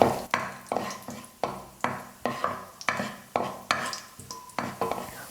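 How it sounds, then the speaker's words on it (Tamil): Cashew pieces are roasted in ghee for halwa, heard as a close, rhythmic series of utensil scrapes and taps against the pan, about two per second, over a faint sizzle, with no speech. "முந்திரி வந்து இப்போ ஓரளவுக்கு வறுபட்டுருச்சு."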